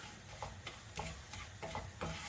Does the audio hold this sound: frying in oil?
yes